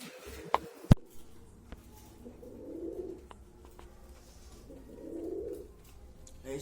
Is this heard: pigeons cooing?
yes